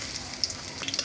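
Potato chops and an egg chop frying in oil for iftar, giving a soft, continuous sizzle with a few small pops and crackles, heard close and quiet.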